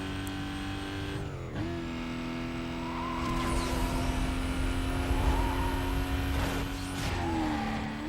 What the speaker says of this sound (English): this thing has a V12 engine